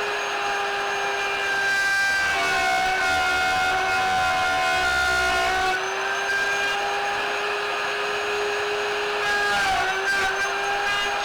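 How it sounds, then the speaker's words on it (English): Woodworking router with its bit cutting across a fretboard blank mounted on a radius jig, a loud, steady high-pitched motor whine with a rough cutting edge, its pitch dipping briefly as the bit bites, running continuously throughout. "Then I mounted the router, attached a fretboard blank, and gave it a try."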